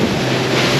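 Boat crossing choppy sea after leaving Miami toward Bimini, engine and hull noise mixed with loud wind buffeting and wave wash, steady and close throughout, no talk.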